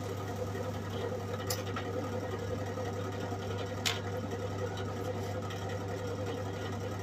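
MIG welder running on metal clamped to a work surface, a steady faint crackling hiss over a constant low hum, with a couple of brief sharp pops.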